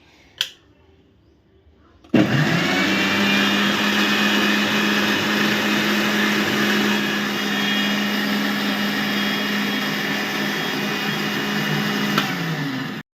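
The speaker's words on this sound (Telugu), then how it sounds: "next పట్టేస్తాను mixie" Electric mixer grinder blending ripe banana milkshake without ice, a loud, steady, close whirring roar that starts abruptly and runs unbroken for about ten seconds before cutting off, after a brief click.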